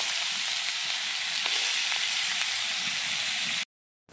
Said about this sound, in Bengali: এদিকে কড়াতে তেল দিয়ে দিয়েছি, তেলটা গরম হয়ে গেছে, এই চিংড়ি মাছগুলো ভেজে নিচ্ছি